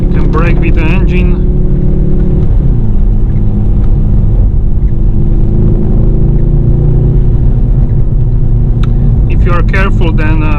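A 2019 Mercedes-AMG GT 63 S 4-Door Coupe with a 639 hp V8 braking on the engine, a loud, steady, close rumble with a brief dip in pitch early on, likely a downshift, then a sustained drone to the end.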